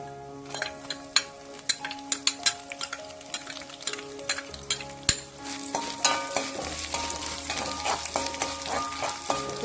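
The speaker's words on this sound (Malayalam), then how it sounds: "ഉലുവ മൂത്ത് വന്നിട്ടുണ്ട് ഇതിൽ വെളുത്തുള്ളിയും ഇഞ്ചിയും ചേർത്ത് കൊടുക്കും" Garlic and ginger are added to fenugreek frying in hot oil for a date pickle, setting off a loud, continuous sizzle. A spoon stirs and clinks against the pan with sharp, irregular scrapes close by.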